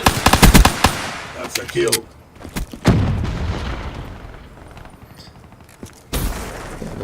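Rapid pistol shots crackle in a first-person shooter video game, a quick burst of loud close reports at the start and another sharp blast near the end, with a brief spoken remark and quieter game noise between.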